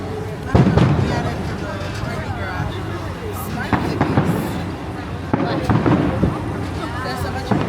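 Fireworks bursting over Disneyland at night, heard from an open park tram, with several loud booms and crackles at irregular intervals while people chatter nearby.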